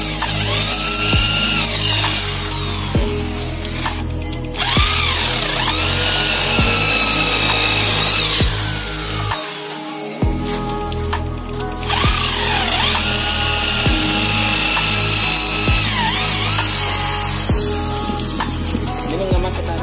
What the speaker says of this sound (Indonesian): Pertama kita menggunakan bor M10